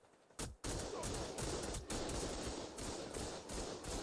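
Eight heavy turrets in ARK: Survival Evolved fire together in a dense, continuous storm of rapid gunfire. The fire is near and loud, with brief dips in intensity but no real pauses.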